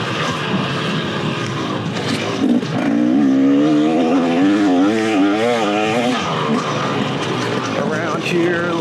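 Two-stroke dirt bike engine riding an Arizona trail, a loud, close, buzzing drone that rises and wavers in pitch as the throttle opens and eases, with wind rush throughout.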